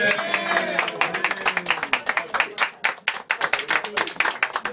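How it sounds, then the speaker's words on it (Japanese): An audience at a live music session applauds, with sharp individual claps from a small group building into a steady rhythmic patter that continues for several seconds. "大きな拍手を。"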